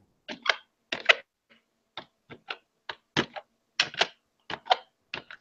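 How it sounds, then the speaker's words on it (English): Keys on a computer keyboard being tapped in irregular separate clicks with short pauses between them, close and fairly clear against near silence. "He's like typing."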